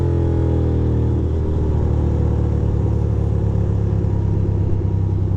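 City street traffic in New York City during an early evening bicycle ride: a loud, continuous low engine rumble from passing cars, with some revving that swells and settles.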